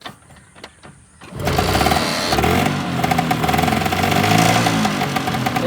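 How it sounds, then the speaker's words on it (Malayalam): Lambretta LI 150 scooter engine catching after quiet starting attempts, then settling into a loud, steady two-stroke idle that runs on close to the microphone. "വണ്ടി സ്റ്റാർട്ടാക്കി ശ്രമിച്ചാലല്ലേ സ്റ്റാർട്ടാവുള്ളൂ."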